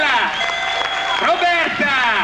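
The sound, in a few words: applause for choir members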